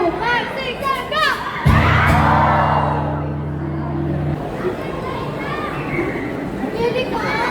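Crowd of children cheering and shouting together at a busking show in a mall, a loud burst of whoops and yells rising over the hubbub of a busy crowd with a deep held tone underneath.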